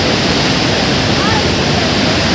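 Large Mukkha Falls waterfall in Sonbhadra district pours in a constant, loud, broadband rush of falling water, steady and unbroken, with no voices.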